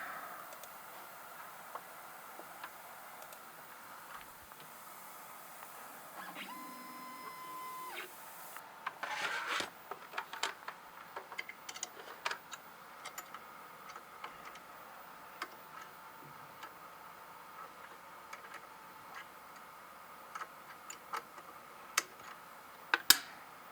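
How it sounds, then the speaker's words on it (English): An Othermill desktop CNC mill cuts a circuit board, a quiet steady mechanical hum broken by faint tones and then a run of sharp ticks and clicks, low in level and alone without talk. "Let's mill that out."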